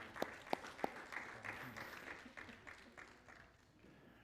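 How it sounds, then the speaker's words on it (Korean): A church congregation applauds, a soft, scattered clapping spread over a few seconds, heard at a distance and fairly faint, with a few sharper claps near the start. "이 시간 우리 사랑과 격려의 박수로 보내도록 하겠습니다"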